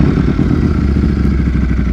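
A tuned motorcycle engine running hard, a loud, close, steady low rumble with a rapid pulsing throb throughout, no talk.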